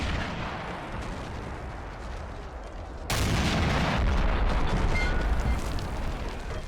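Artillery fires during a battle between red and blue toy soldier armies in an Army Men video game, producing a dense rumbling roar that jumps suddenly louder midway and stays heavy and continuous, with no talking.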